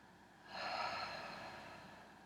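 A single slow, deep breath during a gentle neck and shoulder stretching session, a soft airy exhale swelling up and fading out, quiet and alone.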